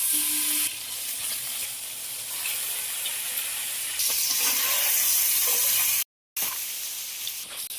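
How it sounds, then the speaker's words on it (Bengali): Paneer fries in ghee with a loud continuous sizzle that swells and eases, broken by a brief silent gap, with occasional scraping of stirring. "পনিরগুলো ভাজার জন্য দিয়ে দেবো।"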